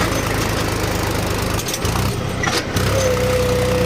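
A tractor engine labours under load while pulling a heavily loaded trolley, a steady mid-pitched drone that dips briefly twice before resuming at a higher strained note, loud and close with no talking.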